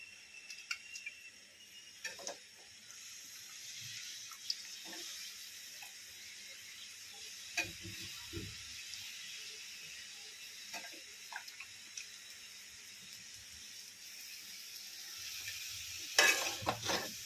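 Cabbage, potato and cauliflower cook in a spiced masala, giving a faint, steady sizzle with occasional soft stirring scrapes and clatters spread across the clip, a bit louder near the end.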